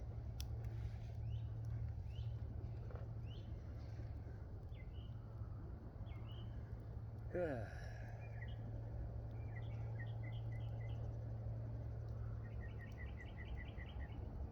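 Faint bird chirps and twitters over a steady low hum, with a brief rushing swoop in the middle and a quick trill near the end.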